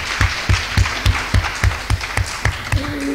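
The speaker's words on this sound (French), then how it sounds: "Voilà, on peut les applaudir." Seminar audience applauding to thank two speakers, a regular, fairly sparse clapping pattern with distinct beats, moderately close, with a brief voice near the end.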